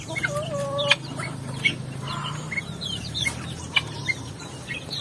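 Upgraded native chicken rooster clucking in a backyard flock, with several short clucks and calls scattered irregularly over a steady low background hum, fairly close and moderately loud.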